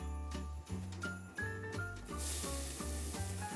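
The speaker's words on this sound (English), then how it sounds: "what you want to do is cook these onions until they're translucent" Onions frying in oil in a pan, a steady sizzle mixed with light clinking of a utensil, under a bright sustained tonal layer that plays throughout.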